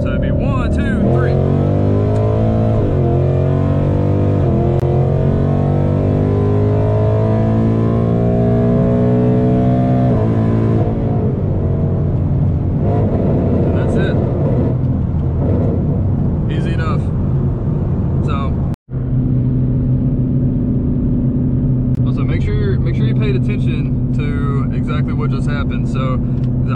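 A car in manual mode, with the driver shifting gears using paddles: the engine revs up loudly, drops at a gear change and climbs again, heard close from inside the cabin while someone talks over it.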